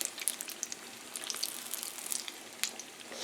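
Breaded cheddar and mozzarella sticks deep fry in hot oil, giving a steady close hiss of bubbling with scattered sharp pops and crackles, moderately quiet and without speech.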